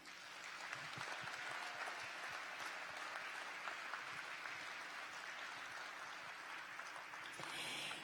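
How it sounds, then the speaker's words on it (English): Applause from a large crowd fills a convention hall at an FFA event, a steady wash of clapping that holds for several seconds at a distance, fairly quiet overall. "I'd like you first to give a big round of applause to all the people that make this convention possible."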